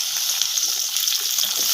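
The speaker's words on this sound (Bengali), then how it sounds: "এই তেল গরম গরম হয়ে গেছে, এর মধ্যে আমি এক এক করে সব সবজিগুলো ভেজে নেবো।" Ivy gourd, pointed gourd and potato pieces frying in hot oil for an egg curry, giving a loud, close, steady hiss of bubbling oil with no break, heard alone.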